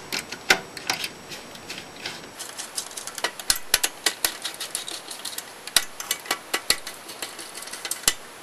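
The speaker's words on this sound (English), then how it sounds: "All right, we'll just screw those down." Screws being driven down inside an opened NES console during repair, heard as a steady run of small, close mechanical ticks and ratcheting clicks with sharper snaps now and then, with no talking.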